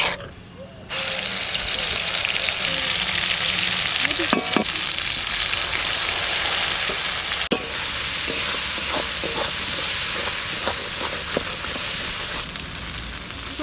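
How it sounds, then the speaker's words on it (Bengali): Ground spice paste hits hot oil for a bitter gourd masala curry and fries with a loud, steady sizzle, with scattered clicks of stirring throughout. "তেলের মধ্যে বাটা মশলাটা দেবো"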